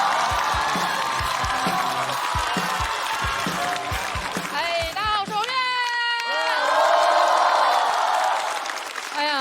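A stand-up comedy show audience welcomes a comedian onstage with rhythmic clapping and cheering, followed by sustained whooping, shouts and a swelling roar of crowd noise.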